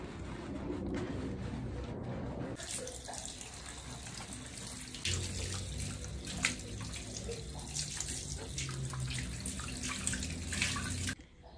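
Tap water running steadily while hair is washed, a continuous close splashing stream lasting about eleven seconds that shifts in tone partway through as the flow meets hair, then cuts off abruptly, faint bird cooing in the background.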